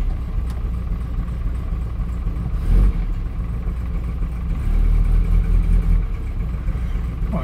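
A car engine idles steadily with no choke, a continuous low rumble with a brief rise near the middle and a slight swell later, running a bit rich with a weak battery.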